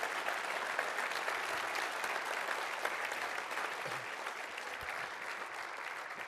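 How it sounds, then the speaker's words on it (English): Sustained applause from a large audience at an association annual meeting, dense clapping holding steady throughout, gradually easing slightly toward the end. "to ask everybody to please give Mike Guyette a huge round of applause."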